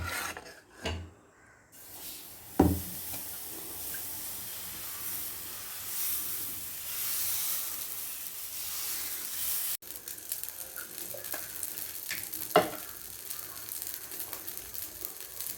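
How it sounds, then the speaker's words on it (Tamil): Tapioca dosa batter on a hot pan, heard as a steady close sizzle and hiss with a few sharp scraping clicks from the pan; no talking. "இப்போ நம்ம தோசை ஊற்றலாம்."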